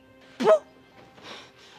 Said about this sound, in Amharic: ውሻ ነው።